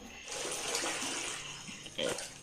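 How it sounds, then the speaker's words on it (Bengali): Cut potatoes being washed in a bowl of water for French fries, close sloshing and splashing that runs for about two seconds, with a brief louder splash near the end. "এবারে আলুগুলোকে 3-4 বার করে জল পাল্টিয়ে ধুয়ে নিতে হবে।"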